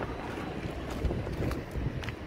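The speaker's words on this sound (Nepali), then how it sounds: "हावा यस्तो चलिरहेछ ल हेर्नु त" Strong wind blowing outdoors on a hot, sunny day, a continuous rough roar buffeting the microphone with gusty swells throughout.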